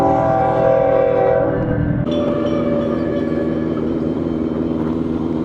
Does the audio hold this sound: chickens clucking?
no